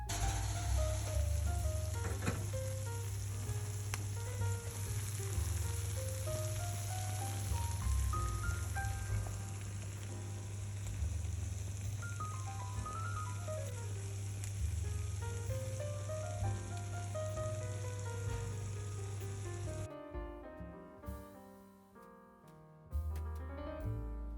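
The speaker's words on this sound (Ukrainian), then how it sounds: "тобто почалися перші ознаки кипіння" A soft, steady sizzle and bubbling of béchamel sauce simmering in a pan, continuous and low, fading into quieter clatter at the end.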